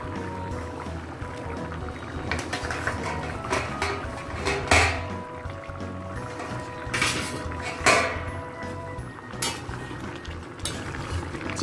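Aam kasundi chicken curry simmering in a covered pot as the lid is lifted off, giving a couple of sharp metallic clanks over a steady low bubbling and kitchen background.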